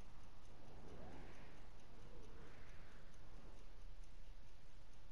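Soft, regular clip-clop of horse hooves trotting in Red Dead Redemption 2, steady throughout over a dense background hum, fairly faint.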